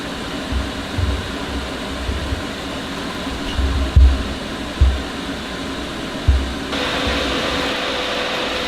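A Vortex 8-inch inline duct fan runs as a steady, close broadband whoosh, with a few soft thumps along the way and the airflow turning brighter and stronger near the end.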